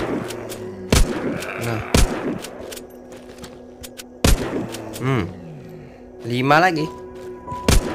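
Gunshots in the zombie game The Walking Zombie 2 land as a handful of sharp, separate cracks spaced a second or more apart, mixed with in-game effects while someone talks excitedly in Indonesian.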